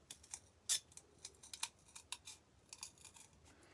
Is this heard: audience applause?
no